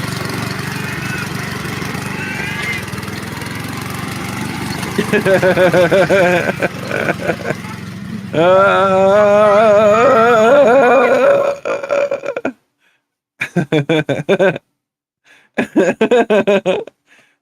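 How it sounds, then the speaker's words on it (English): A lawn mower engine sputters and revs, rough and loud with a pulsing tone, then cuts out into silence and restarts in short bursts near the end. "You're showing the kids how to use a lawnmower."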